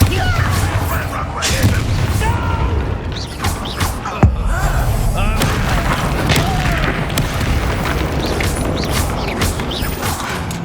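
Booming blast from the Bombarda spell in Hogwarts Legacy, a loud crash amid a dense, continuous rumble of game action, with a person talking over it.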